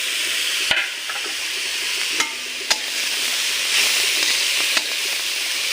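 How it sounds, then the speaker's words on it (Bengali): Grated coconut frying in a kadai gives a steady, loud sizzle and hiss, broken by a few sharp clicks of a spatula scraping the pan. "আর এদিকে আমি এই কড়াইতে নারকেলটা ভেজে নেব"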